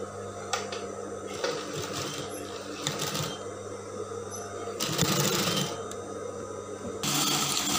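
A sewing machine stitching a winged mermaid dress, sewing a small seam along the edge, whirring steadily up close with louder, faster bursts of stitching and a few brief clicks.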